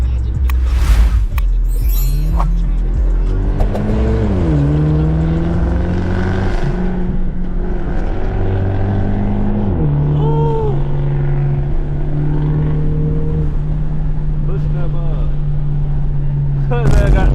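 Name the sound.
Volkswagen car engine revving at a car meet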